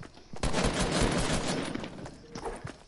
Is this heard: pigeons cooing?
no